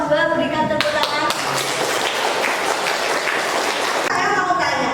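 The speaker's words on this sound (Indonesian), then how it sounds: "dari kelompok 2 berikan tepuk tangan." A classroom group claps for a presenting team, a busy wash of hands lasting a few seconds between stretches of nearby voices at the start and end.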